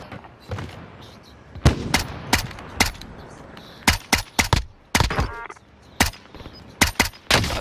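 Sharp bursts of gunfire crack in an online shooter game, a dozen or so loud separate shots and short volleys spaced irregularly over a quiet background.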